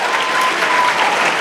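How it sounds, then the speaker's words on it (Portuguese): A church congregation applauds together in a steady, dense wash of clapping, loud and close, lasting just over a second with no pauses. "Vamos aplaudir bem forte a Jesus, irmãos."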